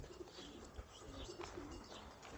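Soft, low pigeon coos repeat in a gentle rhythm, fairly faint, with light outdoor farm background around them, during breeding season.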